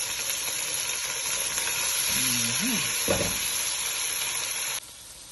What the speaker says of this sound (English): This is soy sauce. I'm adding a little bit soy sauce.